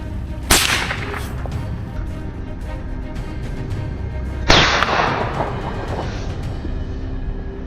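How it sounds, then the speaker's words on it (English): Two sharp gunshots fired during an autumn wild boar hunt, the first at about half a second and a louder second one later with a longer outdoor echo, over steady background rumble and no voices. "Without hesitation, he fired. The shot hit the first target of the day"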